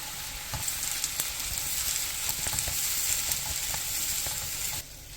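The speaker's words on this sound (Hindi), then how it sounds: "अब इसमें हमने जो पेस्ट तैयार किया था उसको ऐड करेंगे और इसको अच्छे से मिक्स करेंगे" Masala paste fries with onions in a pan, giving a continuous bright sizzle broken by spoon taps and scrapes as it is mixed, then dropping suddenly quieter just before the end.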